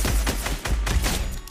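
Rapid automatic gunfire in the Fortnite video game, a loud fast burst of repeated shots spanning the whole moment without talk.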